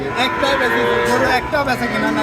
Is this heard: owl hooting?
no